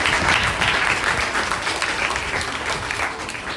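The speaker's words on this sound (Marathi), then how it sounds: "तेव्हा जोरदार त्यांच्याकरिता जोरदार टाळ्या होत्या" Loud, sustained applause from an audience at a school entrance welcome ceremony, dense clapping that holds steady and fades slightly over a few seconds.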